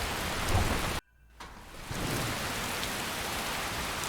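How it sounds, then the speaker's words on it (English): Steady rain pours in the video game Skyrim, a dense, loud wash of rain that cuts out briefly near the start before returning, with a low thunder rumble building under it. "But as such, it is raining, and I have things to do"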